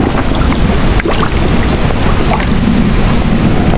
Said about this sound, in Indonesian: Tengok ni hujan renyai lagi.